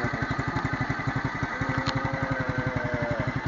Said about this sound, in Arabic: هذا هو الموتور كيفاش جمعناه